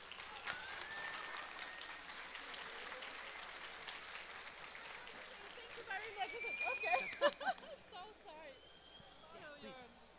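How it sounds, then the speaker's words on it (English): Audience applause at a talk on music and consumer engagement, a moderate steady clapping that thins out, with voices and chatter rising over it near the end. "Bia, you can clap now."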